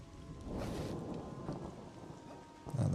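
Rainstorm in the video game Monsters & Memories, a soft continuous hiss of rain with a low rumbling roll of thunder underneath, faint and distant throughout, with a brief thump near the end and no talk.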